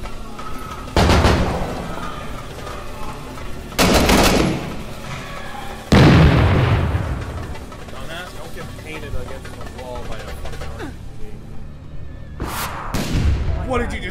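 Several heavy blasts and bursts of gunfire boom in the Six Days in Mogadishu video game, including a grenade explosion, arriving in loud separate bangs with a short decaying rumble, amid voices talking over the action.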